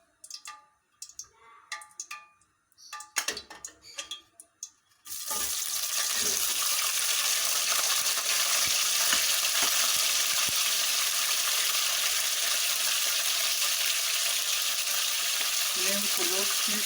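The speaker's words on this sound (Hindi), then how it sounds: "ऑयल गर्म हो चुका है, अब डालते हैं मटन।" Mutton dropped into hot oil for a fry with potato, preceded by a few scattered clicks and clatters, then bursting into a loud, steady sizzle that continues without a break for more than ten seconds.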